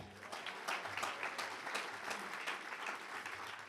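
An audience at a conference gives a quiet, steady round of applause, dense rapid clapping from a distant crowd, sustained evenly without talk.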